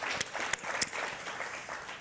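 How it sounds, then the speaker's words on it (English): Audience applause at the close of a medical conference day on AL amyloidosis, a steady wash of clapping from a crowd with a few sharper claps standing out, moderately loud and continuous throughout. "maybe we can just give one more round of applause for all"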